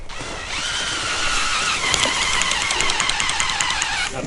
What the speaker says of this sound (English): putting the tent stakes in, using the DeWalt drill